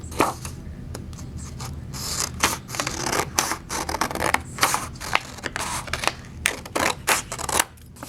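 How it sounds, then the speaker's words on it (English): Scissors snip through paper in a quick run of sharp, close cuts, with a steady rhythm of crisp clicks and short rustles for around eight seconds. "So I'm going to cut this out."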